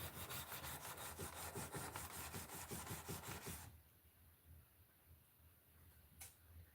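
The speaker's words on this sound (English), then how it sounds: "back and forth sanding," Hand sanding a knife with a steady back-and-forth stroke, a rhythmic rasping scrape repeating roughly every quarter second for about four seconds, then stopping, leaving quiet room tone with one faint tick.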